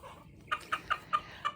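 Five short clucks from a backyard chicken flock of Polish breeds, spaced fairly evenly and heard up close, with quiet background noise between them.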